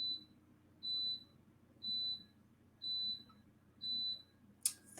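An appliance sounds a series of five evenly spaced, clear electronic beeps about one second apart, followed by a short clatter at the end, over a low background hum in a room.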